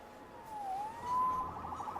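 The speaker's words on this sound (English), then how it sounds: "Saved by the siren." A police siren wails in the video game Marvel's Spider-Man, one rising and falling sweep heard faintly from a distance with little else around it.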